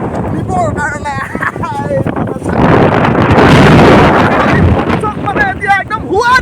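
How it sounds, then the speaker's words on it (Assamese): Strong wind gusts buffet the microphone outdoors as rain arrives, a loud rushing roar that swells in the middle, with a person talking over it. "বতাহ চাৰিওফালে একদম বৰষুণ আহি গ'ল"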